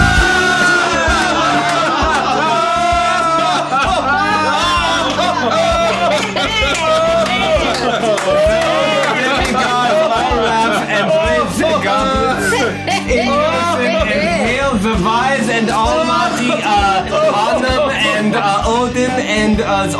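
A live audience cheers and whoops loudly in a dense, continuous roar of voices and shouts that lasts throughout, with excited yells rising above the crowd noise.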